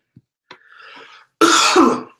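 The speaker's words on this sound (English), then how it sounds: "Sorry about the cough, and I'm a little sick." A brief throat clearing, then one harsh, close cough from a man who is a little sick, isolated in quiet.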